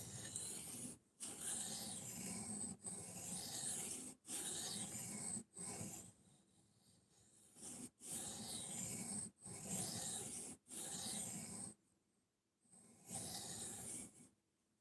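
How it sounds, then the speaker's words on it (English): Knife sharpening on a recurve blade with a micro bevel: steady raspy strokes scraping along the edge in long repeated passes with brief pauses between them, close and fairly loud, with no talking. "Sharpening this one sucks because of the recurve, but it also sucks because it has a micro bevel."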